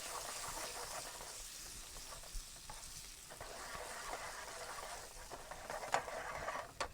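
Chicken curry with crushed tomato and coconut milk sizzles and simmers steadily in a pan, with occasional stirring scrapes and soft bubbling close by.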